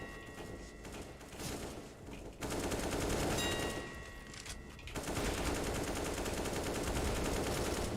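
Rapid automatic gunfire in a video game, dense machine-gun bursts broken by short lulls, loud and continuous through most of the stretch with no one talking.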